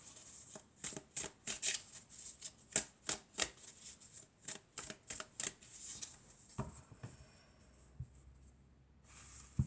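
Oracle cards are shuffled in quick, rhythmic riffling bursts, close and crisp, that carry on for several seconds before stopping and leaving near silence with a few soft handling sounds.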